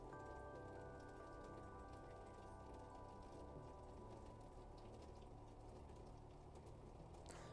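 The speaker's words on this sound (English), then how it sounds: "I want to see how loud the rain is" Steady rain falls in a video game scene, a dense, even hiss of drops pattering on surfaces that holds at a constant level throughout with no voices.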